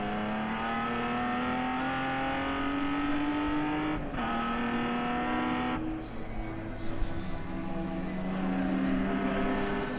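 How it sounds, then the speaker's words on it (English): Endurance race car on a road course during a ChampCar Endurance Series event at Joliet, its engine note stepping down through sharp downshifts as it brakes, loud and continuous with a commentator talking over it. "Nice crisp downshifts there."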